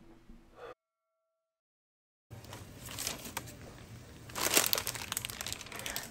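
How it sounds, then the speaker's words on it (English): Aluminium foil crinkling over a pot of Ghanaian jollof rice: after a short silence, close crisp crumpling and rustling rises and grows loudest near the end, with no voices. "I would suggest you use a parchment paper or an aluminium foil"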